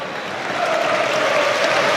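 A stadium crowd at a Liverpool versus PSG Champions League match roars and applauds after a sliding tackle, a broad, steady wash of cheering that swells slightly and holds loud throughout.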